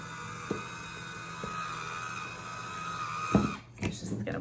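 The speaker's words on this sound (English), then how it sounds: "It's got this handy little wine opener." An electric wine opener on a stand runs with a steady motor whine as it pulls a cork from a wine bottle, with a few clicks and a louder pop-like burst near the end.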